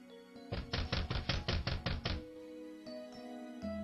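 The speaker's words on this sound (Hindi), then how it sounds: "यूसुफ और मरियम वहां से आगे निकलकर अगले दरवाजे पर खटखटाते हैं।" A door is knocked on during a Hindi-language Christmas nativity play, where a run of about nine quick, loud, evenly spaced raps is followed by quiet room tone.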